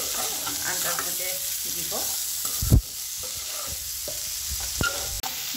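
Seasoned meat fries in a pan and is stirred, making a continuous sizzle with scraping strokes and a couple of louder clacks. A few brief words are spoken near the start.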